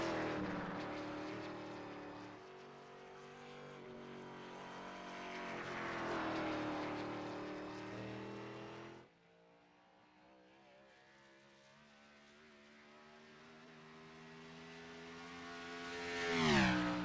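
A Toyota Supra race car at Watkins Glen in a stock car series race roars past, engine droning loud with a pitch sweep, dropping away abruptly, then a more distant engine hum building again to a close pass at the end.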